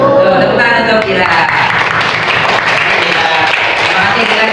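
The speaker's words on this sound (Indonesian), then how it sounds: "Tepuk tangan untuk Kira." A classroom of students claps for a classmate, a loud, close, dense patter of many hands running throughout, with a voice briefly heard at the start.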